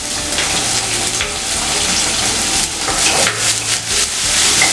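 Spring onion whites sauté in a hot pan for a paneer pepper garlic rice, giving a loud, continuous close-up sizzle and hiss with a watery, rushing texture throughout.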